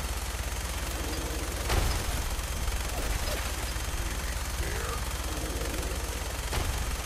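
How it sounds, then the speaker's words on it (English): Grenade explosions and gunfire in the video game Fallout 4 during a fight with a behemoth aboard the Prydwen, heard as a loud sustained barrage with a few sharp booms standing out over constant low rumble. "He's throwing grenades at us."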